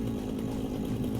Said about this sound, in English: Because it does use the biofuel in order to use the chainsaw.